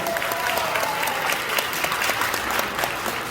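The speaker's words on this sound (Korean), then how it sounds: "우리 모두가 힘차게 열렬하게 박수로 여러분 격려해 주시면 감사하겠습니다" An audience applauds at a Korean Christian revival association's leadership installation service held in a buffet hall in Pyeongchon, Anyang: sustained, dense clapping with sharp individual claps throughout, fairly close and loud.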